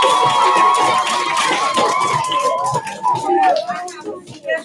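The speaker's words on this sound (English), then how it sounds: "Give me a round of applause." Elementary school children in an assembly audience cheer, shout and clap in a loud, busy burst that swells and then breaks into scattered calls and thinning noise toward the end.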